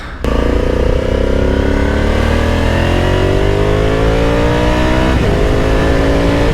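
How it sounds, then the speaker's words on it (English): A 2021 Honda Africa Twin Adventure Sport motorcycle engine pulls hard on the road, loud and close, rising steadily in pitch as it accelerates, with a brief shift and the climb continuing after it. "Some adventure riding for you on this adventure bike."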